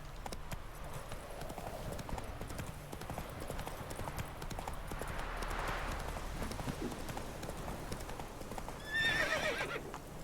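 Roach, a horse in The Witcher 3 video game, gallops with steady muffled hoofbeats under game music, then lets out a loud, close neigh near the end.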